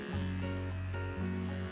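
A Havells beard trimmer runs while plugged in on direct charging, giving a steady electric motor buzz that stays loud and close throughout, with slight pitch dips but no pauses.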